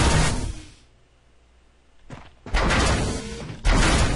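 Broadband whooshing bursts of a sliding door opening in a video game, with a loud rush, a quiet gap, then two more sustained swooshes near the end.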